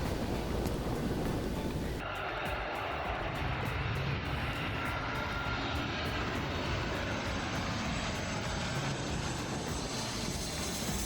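A fixed-wing airliner comes in to land over Maho Beach on St. Maarten, its engines a loud, sustained roar that fills the whole stretch and swells as the plane passes close overhead, with no talking.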